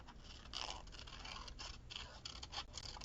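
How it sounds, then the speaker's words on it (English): Scissors trim paper flowers close by in a run of quick scraping, rustling snips, each cut a short crisp burst with a soft paper rustle between them. "I'm going to trim these. Where? Okay, here's my scissors."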